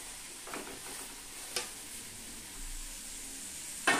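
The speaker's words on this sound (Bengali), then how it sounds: "নারকেল গুড় দেওয়ার পর এবার একটু নেড়ে চেড়ে দিতে হবে।" A spoon stirs grated coconut and jaggery in a hot pan for puli pithe, a soft low scraping and faint sizzle with a couple of light clicks against the pan, heard alone.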